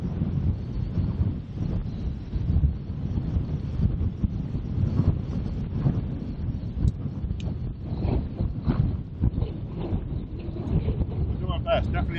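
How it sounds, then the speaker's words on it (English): Steady wind buffeting the microphone on a coastal golf course at Polzeath, a loud continuous low rumble throughout, with a voice speaking over it. "So into wind as well."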